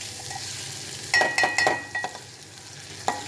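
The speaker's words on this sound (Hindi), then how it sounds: "तो इन मसालों के साथ थोड़ा हम एग को फ्राई कर लेते हैं।" Eggs frying with spices in a pan for an anda curry, a soft hiss underneath a cluster of sharp spoon-on-pan scrapes and taps, then one last knock after a pause; close, no voices.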